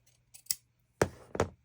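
Scissors snip through lace trim during a craft session, a couple of quick light cuts followed by two louder, crisper closes of the blades, close up with no talking.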